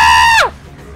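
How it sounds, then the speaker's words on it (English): A shrill, harmonic scream in League of Legends holds steady for a moment, then drops sharply in pitch and cuts off. Faint game noise remains underneath. "God, that scream!"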